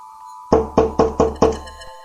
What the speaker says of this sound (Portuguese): alguma coisa batia naquela porta